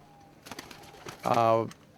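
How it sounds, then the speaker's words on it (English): Marble starling pigeons in a loft give short cooing calls, ending in one loud, close, drawn-out coo, with faint quieter sounds before it. "This is a marble starling."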